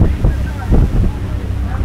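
Strong wind gusts buffet the microphone in low, rumbling bursts over open water during a lightweight men's rowing race, rising and falling over a couple of seconds.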